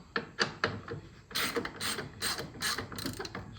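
Ratchet wrench loosening a bolt during a Range Rover L320 crash rebuild, a series of close, sharp clicking bursts with a few quick pulls early, then longer, louder ratcheting strokes repeating in steady rhythm, no talking.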